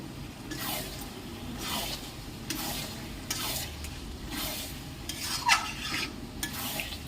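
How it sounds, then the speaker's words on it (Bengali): Goat meat marinated in turmeric and sour yogurt being stir-fried in a pan, with a steady close sizzle and repeated spatula scrapes and stirring strokes roughly every second, no talking. "এবার মাংসটা দিয়ে দিচ্ছে। এবার ভালো করে কষে নেবো 15 মিনিট,"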